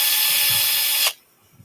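A handheld impact driver runs close and loud with a steady mechanical whir for about a second, then cuts off abruptly into near silence.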